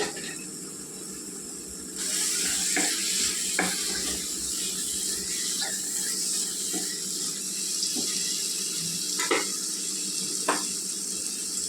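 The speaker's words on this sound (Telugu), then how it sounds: "ఐదు పచ్చిమిర్చి అండి, పొడుగ్గా తరిగి వేసుకుంటున్నానండి" Five green chillies, sliced lengthwise, hit hot oil in a pan for an Andhra-style okra and prawn curry, breaking into a sudden steady sizzle with occasional light clicks of stirring.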